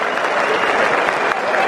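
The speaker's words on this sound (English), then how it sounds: "And quite rightly does Trent Bolt get the applause." A cricket crowd at a New Zealand versus England Test match applauds Trent Boult's bowling: steady, loud clapping from a large gathering that fills the whole moment without pause.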